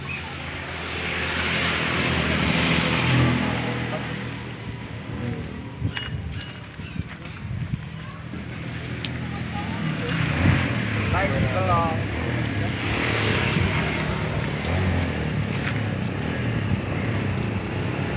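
A loaded motorbike engine runs steadily in the rural countryside with a continuous rumble and road noise for a long stretch, while voices speak over it at times.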